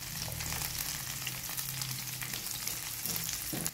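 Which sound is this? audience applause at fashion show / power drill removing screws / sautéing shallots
sautéing shallots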